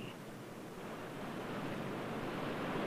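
Sea surf washing against a coastline, a steady broadband wash of breaking waves that swells slightly louder over a few seconds, with no voices.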